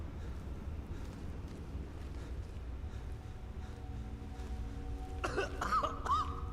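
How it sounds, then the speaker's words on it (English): A person coughs in a quick cluster of a few harsh bursts near the end, preceded by a long stretch of quiet, airy background hiss. "Oh, why am I coughing?"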